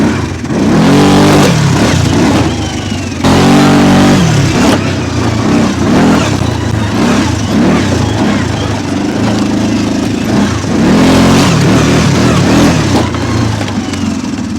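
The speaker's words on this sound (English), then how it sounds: "as you're getting warmed up, you can hear that chain noise a little more" A 650-engine off-road machine idles and revs close by, its steady mid-range drone swelling in several throttle blips while a faint chain clatter runs underneath.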